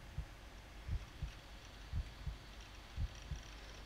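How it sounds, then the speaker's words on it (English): Heartbeat sound effect from the ChäoS;HEAd visual novel, a steady, low, muffled thump-thump repeating about once a second, soft and alone with no talk. "I can hear my heartbeat."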